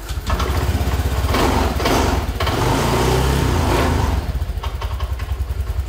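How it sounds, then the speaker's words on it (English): Fuel-injected motorcycle engine being started after its fault codes are cleared, catching and then running with a close, loud, rapid pulsing idle that stays steady for several seconds. "Let's start the engine to check."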